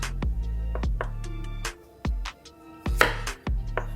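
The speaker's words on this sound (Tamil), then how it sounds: "இது ஜூலியன் கட்" A knife chops vegetables into julienne strips on a cutting board, a series of sharp, close knocks at an uneven rhythm with short pauses between strokes.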